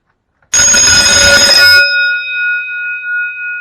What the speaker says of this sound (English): it's just a cool fire alarm